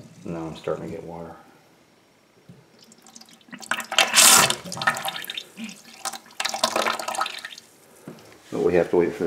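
Water begins flowing through a house's plumbing during a bathroom renovation, sputtering and splashing in irregular bursts from a tap between stretches of talk.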